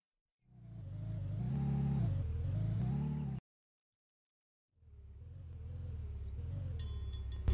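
A car engine in a roleplay video game runs steadily and loudly for about three seconds, cuts out to silence, then starts again and holds a rising drone, with a sharp crackle at the very end.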